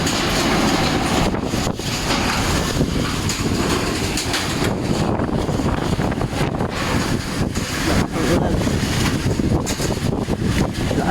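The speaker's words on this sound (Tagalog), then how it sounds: "Lakas ng hangin." Strong wind roars steadily into the microphone during a storm, a dense, buffeting rumble with gusty surges throughout and no voices.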